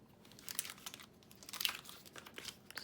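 Paper being trimmed for a paper heart-shaped box, a quiet, close series of light crinkles and snips in irregular bursts.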